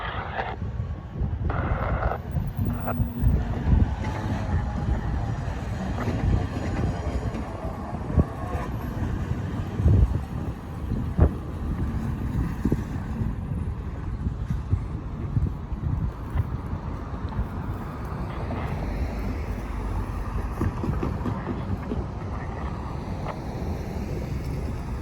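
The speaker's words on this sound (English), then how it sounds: "There goes the high rail truck" A high-rail truck rolls along railroad track 2, a steady low rumble that persists for the whole stretch, blended with heavy outdoor wind buffeting the microphone.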